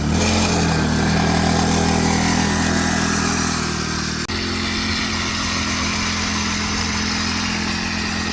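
An X-PRO 40cc four-wheeler engine runs close by in a steady, buzzy drone, its pitch dropping slightly partway through as it settles to a lower idle.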